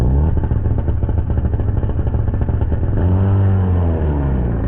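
A drag racing motorcycle pulling a wheelie at Maui Raceway Park, heard in slowed-down replay as a loud, deep, drawn-out engine drone with a falling, stretched pitch.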